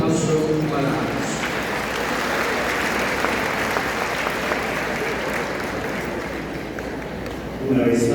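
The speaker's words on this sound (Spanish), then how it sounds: "Un fuerte aplauso para ambos." A large audience applauds two speakers at an education forum, with dense, steady clapping that holds for several seconds and swells slightly near the end.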